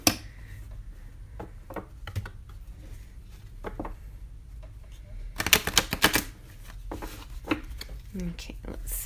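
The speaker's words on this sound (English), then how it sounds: "Let's give this one good shuffle." A deck of tarot cards gets a quick shuffle, a burst of rapid riffling clicks in the middle, with soft handling taps and rustles before and after.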